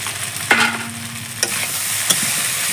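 A potato and soy chunk mixture fries in a pan as it is stirred, a close steady sizzle broken by a few sharp scrapes and knocks of the spatula, with no voices.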